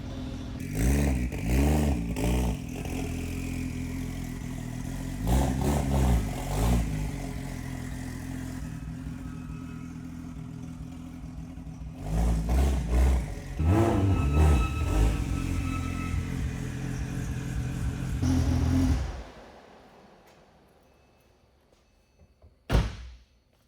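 A Porsche 911 Turbo engine revs and idles with rising and falling pitch, several throttle bursts, then cuts off into near silence before a brief thump, at night.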